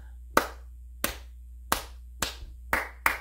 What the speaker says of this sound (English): let's just clap some rhythms